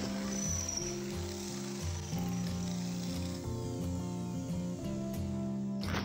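A power drill with a 7 mm bit whines against a metal spray paint can while boring a hole for refilling, its motor pitch stepping up and down in steady close-up bursts.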